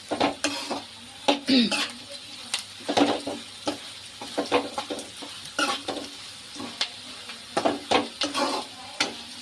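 Onions and bitter gourd pieces frying for a curry, a steady close sizzle broken by repeated scraping and clattering stirs of a utensil against the pan throughout.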